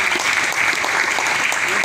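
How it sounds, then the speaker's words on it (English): Hall applause for a finance official at the India Mobile Congress curtain raiser, a dense steady wash of clapping from a large seated audience with voices blended underneath. "Give a big round of applause for the member Finance"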